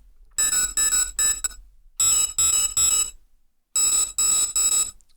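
High-pitched synthesized sci-fi beeps from a Massive soft synth, sounding distorted and buzzy, in three bursts of rapid repeated tones separated by short silences, loud and alone.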